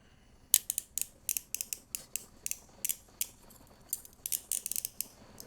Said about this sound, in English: Let's go ahead and give it a full ratchet.